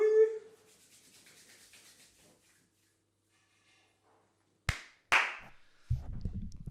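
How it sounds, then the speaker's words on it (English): A few sharp hand claps, two close loud snaps a moment apart followed by a rubbing, scuffing noise, after a quiet stretch that opens with a brief bit of voice. "Again, my hand clap was better than yours."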